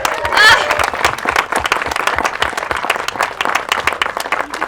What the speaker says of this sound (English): Can you get a round of applause for my educators?